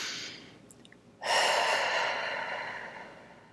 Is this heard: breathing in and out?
yes